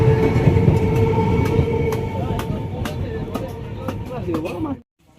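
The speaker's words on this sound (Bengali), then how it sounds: "আর এদিকে ট্রেন যাচ্ছে" A train rumbles past close by with rhythmic clattering from the wheels, then the noise cuts off abruptly.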